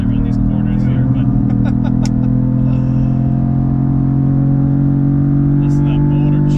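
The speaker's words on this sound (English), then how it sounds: "listen to that motor churn." A Cadillac CT5-V or CT4-V Blackwing engine drones loudly from inside the cabin, its low tones holding high and strained, with brief bursts of chatter and clicks over it.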